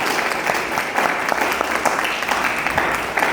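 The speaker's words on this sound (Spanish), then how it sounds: "Les pido, antes de despedirnos, un aplauso, por favor." Audience at a book presentation in a philosophy and communication symposium breaks into steady, dense applause, close and sustained without a break.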